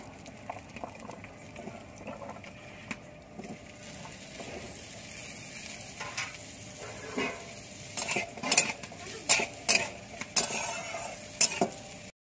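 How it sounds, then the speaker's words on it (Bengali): Potatoes frying in mustard oil, with a low, steady sizzle under frequent spatula scrapes and light clinks against the pan that grow busier toward the end. "এবার আলুটা ভেজে নেব"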